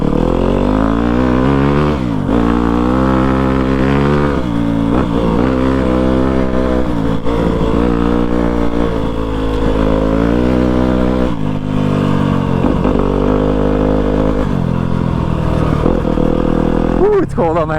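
A Yamaha WR250F dirt bike ridden through snow, its engine loud and close, revving up and down in repeated surges across the whole stretch, with a voice speaking at times over it.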